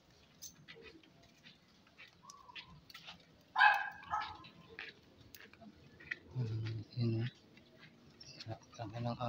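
A dog barks a few times in short bursts among background chatter and bird calls, fairly close, with some scattered bumps and patter.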